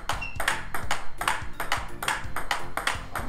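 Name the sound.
table tennis ball hitting DHS Hurricane King 3 racket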